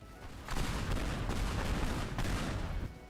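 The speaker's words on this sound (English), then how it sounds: "Watch the fireworks." Trains rigged as explosives blow up in a video game, making a continuous rumbling barrage of booms and blasts that sound like loud fireworks or gunfire, with no one speaking.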